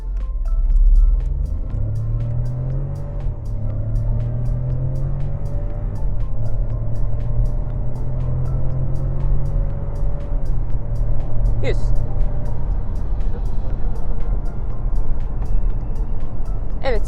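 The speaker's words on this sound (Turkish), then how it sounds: "şimdi aracımızın 0-100 km hızlanmasını yapacağız" A Skoda Kamiq's engine drones close by during a 0–100 km/h acceleration run, its pitch rising steadily, with road noise throughout and a brief high squeak near the end.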